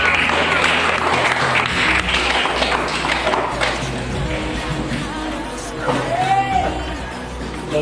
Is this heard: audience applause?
yes